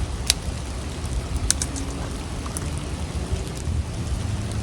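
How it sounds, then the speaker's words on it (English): Light rain falling outdoors on a campfire of wet wood burning in bacon grease, a steady dense patter with scattered sharper drops and crackles, close and continuous, no talking. "It's raining on me right now."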